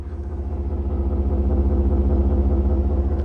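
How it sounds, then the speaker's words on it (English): A 2026 Ford F-150 Lobo V8 idles steadily up close, a deep, even rumble with a low pulsing throb and no talk over it. "let's go ahead and hear this nice V8 engine"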